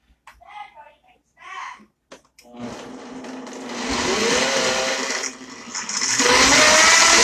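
A Vitamix blender struggles with a salad mixture, its motor grinding loudly and unevenly and rising in pitch after a brief stop, following a few short spoken words.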